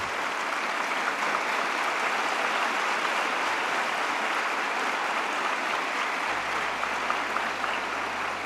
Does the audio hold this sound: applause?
yes